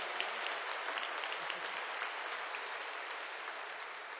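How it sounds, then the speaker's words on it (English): Graduation ceremony audience applauding two singing professors, a dense, even wash of clapping from a large crowd that continues steadily at moderate distance with no voices on top. "I think they deserve a round of applause"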